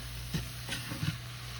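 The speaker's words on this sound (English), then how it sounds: "continue to break up your meat and cook until everything is no longer pink" Ground beef with bell peppers and onions cooks in a skillet, a steady close sizzle with a few soft scrapes of stirring as the meat is broken up.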